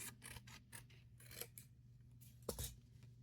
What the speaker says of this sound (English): Let me trim this up just a tad.